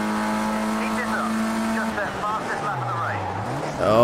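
A race car in Project Cars 2 brakes far too late, its tyres locking and sliding with a squealing pitch that sweeps downward over a steady engine drone, which rises again at the end. A voice talks over the sound.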